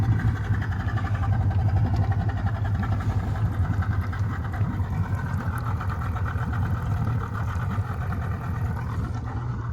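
A Yamaha 90hp two-stroke outboard motor on a boat idles at an even, continuous low throb with a slight buzzy rattle. It is steady and fairly close, with no speech over it.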